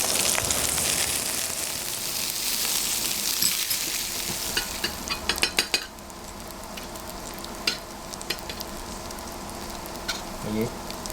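Veal escalopes sizzle in a pan over moderate heat, a steady broad frying hiss with scattered crackles and a few clicks as the cutlets are turned, fairly close and without talk.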